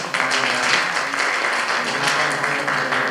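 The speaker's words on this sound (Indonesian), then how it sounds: "tepuk tangan dulu yang untuk Bu Maya" A workshop audience at a cultural expression event claps for a speaker, a dense, even applause that keeps going at steady strength throughout.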